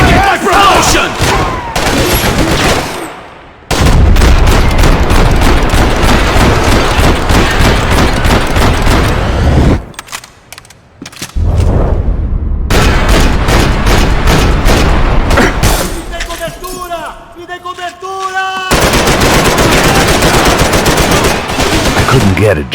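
Heavy automatic gunfire and scattered shots in Max Payne 3, loud sustained bursts broken by brief pauses, with crowd-like shouting and game voices in the mix.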